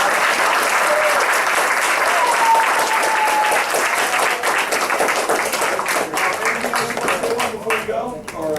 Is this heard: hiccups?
no